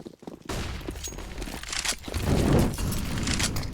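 Rapid bursts of SMG fire in Counter-Strike on the Inferno map during a match, dense crackling shots layered with clatter and movement noise, fairly loud throughout.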